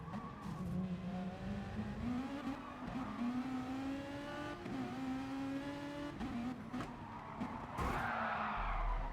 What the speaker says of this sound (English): Then he skids off.